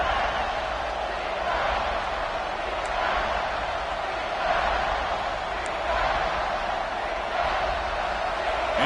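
Crowd noise in a football stadium late in an NCAA UCLA game: a dense, continuous roar that swells and eases in waves, with faint talk under it.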